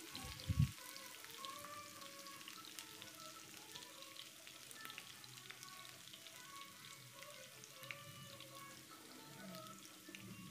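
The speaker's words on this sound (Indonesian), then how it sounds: "Masukkan 7 siung bawang merah iris. Goreng sampai warnanya berubah kuning kecoklatan." Seven sliced shallots fry in 100 ml of hot oil for sambal goreng, giving a faint, steady sizzle with a soft knock near the start and no talking.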